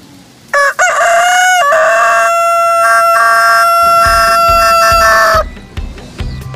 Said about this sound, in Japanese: 鶏の声。